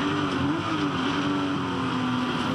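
A touring car engine held at full throttle during a race at Hidden Valley Raceway, a sustained steady drone with a slowly shifting tone, heard from inside or close by, loud and unbroken.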